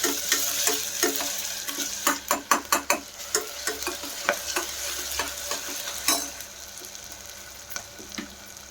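Mixed vegetables sizzle in a pan while a spoon stirs them, giving a steady frying hiss with a run of sharp scraping clacks that thin out toward the end.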